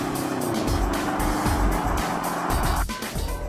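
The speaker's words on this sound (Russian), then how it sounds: "Это упоительный баритон системы выхлопа." A BMW X5 accelerates with a deep, throaty exhaust note that swells and surges loudly, with tire and road noise close by.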